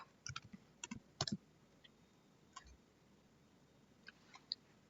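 Computer keyboard typing of a short command, light clicky keystrokes in a quick burst, then a few scattered taps, faint and close in a quiet room.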